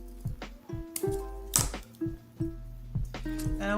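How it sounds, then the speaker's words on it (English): Scissors snip off excess material during a Dollar Tree home decor craft, a string of sharp, close cutting clicks in an uneven rhythm, with no talk. "So I'm just going to cut off the excess."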